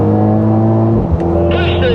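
A 2023 Mercedes-AMG SL43 engine drones loudly and steadily from inside the car on the Kyalami race track, its pitch shifting as the gears change under hard acceleration, with a brief higher whine near the end.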